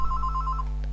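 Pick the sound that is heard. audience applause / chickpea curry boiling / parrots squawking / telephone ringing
telephone ringing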